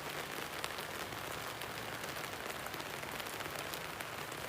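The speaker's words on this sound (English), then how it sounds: "rain pattering." Rain pattering in a steady, dense hiss with soft scattered drops, even and continuous at low volume with no voices.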